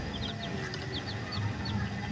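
Several day-old chicks cheeping and clucking in a small rearing pen for colourful chickens, a steady patter of short high calls over a low continuous background hum.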